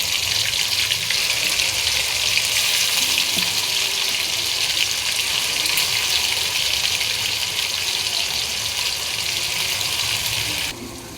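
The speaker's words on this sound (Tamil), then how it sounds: "நம்ம அரைச்சி வச்ச பேஸ்ட்டை ஆட் பண்ணிக்கலாம்." Ground spice paste hitting hot oil in a pan of fish curry with curry leaves, a loud, steady, hissing sizzle that runs unbroken throughout, dropping slightly at the very end.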